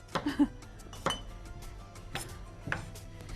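Metal and glass clinks as a cooking pot is handled, a few separate knocks and clatters spaced out with quiet pauses between them.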